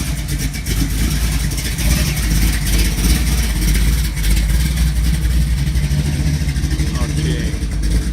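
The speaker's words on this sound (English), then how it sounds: "here comes that 55 Chevy Gasser" A 1955 Chevy Gasser engine runs lumpy and loud up close at a classic car show in Huntington Beach, California, with a steady deep rumble throughout and people talking underneath.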